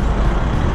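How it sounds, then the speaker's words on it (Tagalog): A big truck rumbles past on a road in a short burst of loud, low, broadband engine and road noise. "Truck, ang lalaki ng truck."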